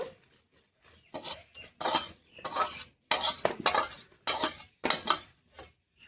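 A spatula scrapes and stirs thick carrot halwa in a pan in a run of distinct, rhythmic strokes separated by brief pauses, close and fairly loud.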